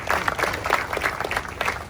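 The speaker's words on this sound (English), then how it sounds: "That's worth a round of applause." Applause from the audience at the Riverside General Hospital ribbon cutting, a crowd clapping in a dense, even patter with soft swells, moderately loud and continuous for a couple of seconds with no voices over it.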